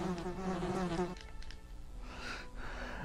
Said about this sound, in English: Oh, not a fan of bees.